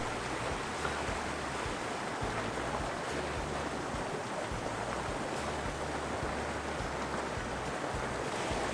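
Flowing stream water on the North Fork trail at Big Pine Lakes while a Platypus water filter is filled, a steady broadband rushing wash that stays constant and moderately close, with no voices.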